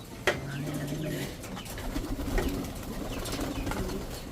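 Pigeon hens coo in a breeder loft, with a low, soft call near the start followed by fainter coos and light rustling, close by in a quiet indoor space.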